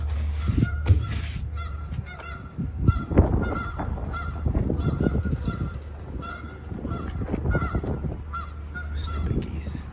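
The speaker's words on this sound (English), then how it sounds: "Stupid geese." A flock of geese honks loudly and repeatedly outdoors, overlapping calls coming in irregular bursts over a low steady background rumble.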